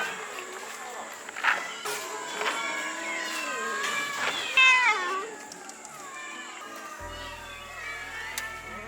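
Many rescued cats meowing at a home cat shelter, with overlapping high meows and cries from several animals, fairly close and steady throughout.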